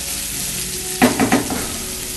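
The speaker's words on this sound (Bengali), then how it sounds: "পেঁয়াজটা আমি হালকা ভাজা ভাজা করছি" Onion frying lightly in oil gives a steady close hiss, joined halfway through by a short cluster of stirring knocks and scrapes in the pan before the sizzle settles again, with no speech.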